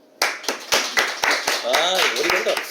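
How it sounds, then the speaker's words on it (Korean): A church congregation claps in a quick, regular rhythm of sharp hand claps, fairly close, with voices talking over the beat. "천재 박수."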